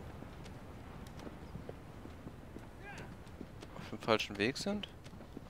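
Horse hooves clip-clopping as a rider travels along a hillside in Shadow of the Colossus, a steady faint patter under German-speaking talk, with a brief whinny-like call near the end.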